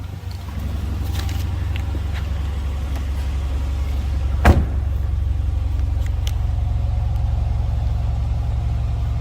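A stock 6.4 liter Hemi V8 in a 2013 Dodge Challenger SRT8 idles steadily, a deep, even low rumble heard from behind the car, with one brief louder blip midway.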